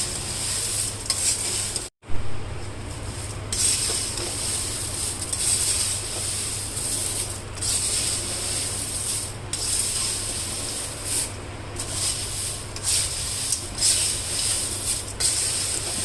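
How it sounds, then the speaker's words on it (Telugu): Jowar flakes and peanuts dry-roasting in a pan, stirred slowly and continuously, producing a steady close rustling, scraping hiss with brief dips, one near-silent gap early on, and no talking. "ఒక 10 మినిట్స్ అట్లా వేయించుకోవాలి నెమ్మదిగా"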